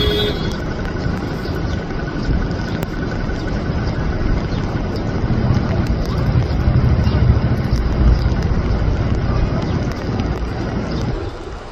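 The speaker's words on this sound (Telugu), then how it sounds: "భయంకరమైన ట్రాఫిక్ జామ్ ఏర్పడుతోంది" Traffic jam on the pilgrimage road to Badrinath in rain, a steady rumble of idling and creeping vehicles with wind noise, continuous and moderately loud throughout.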